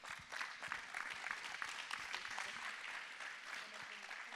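Audience applause at the Innov'Space 2020 trophy award ceremony: a dense, steady wash of many hands clapping that holds at an even level for the whole stretch, with no voices on top.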